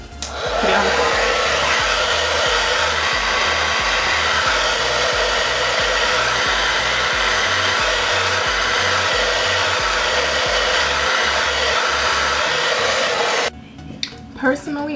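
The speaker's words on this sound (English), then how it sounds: "Now I'm gonna take the blow dryer again and I'm gonna put it on the floor." A handheld blow dryer roars steadily and loudly for about thirteen seconds during a frontal wig installation, then cuts off, leaving a few faint handling knocks.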